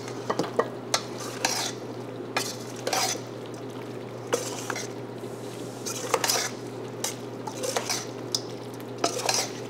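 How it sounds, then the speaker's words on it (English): Hot pasta being tossed in a bowl with olive oil and basil, giving repeated close clinks and scrapes of utensils against the bowl in an uneven rhythm over a steady low hum, with no voices. "And now we'll just put it in the bowl. How easy. And we'll give it a nice toss."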